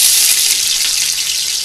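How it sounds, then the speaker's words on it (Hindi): Chopped onions frying in oil for chicken yakhni pulao, a loud, steady hiss of sizzling that runs unbroken and close with no speech. "मैंने तेल डाला है, इसमें मैं प्याज डालूंगी जो काट के रखी हुई थी।"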